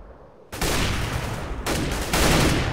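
Sustained gunfire in the video game CS:GO, a dense continuous burst that starts abruptly and stays loud and close, with a brief dip and a renewed surge near the end.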